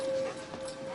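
A family dog pants and whimpers close by in a short, continuous burst of breathy, whining sound with a steady background hum.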